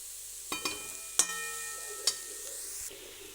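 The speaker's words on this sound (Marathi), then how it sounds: "तर आपण आता गाजर टाकून घेतले आणि हे आपण आता फ्राय करून घेऊयात।" Grated carrots sauté quietly in a pan for carrot halwa, giving a faint, steady sizzle broken by a few sharp clinks of a spoon against the metal.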